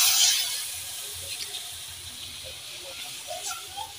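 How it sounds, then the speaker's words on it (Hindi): Water pours steadily into a cooking pot while a dish is made at night in the rain, a continuous close splashing hiss that lasts throughout and swells slightly at the start. "पानी छोड़ेंगे इतना कि जिसमें पक जाए।"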